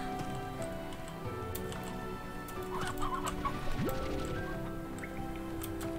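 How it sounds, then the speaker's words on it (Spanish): Chickens in the video game Slime Rancher cluck softly in the background over a steady ambient game soundscape, with a few brief clicks and drips. "Acá hay más gallina."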